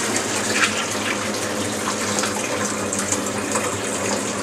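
Water poured very slowly over grain in a partial mash to rinse out the sugars, a steady, close, continuous trickling wash with no pauses and no speech.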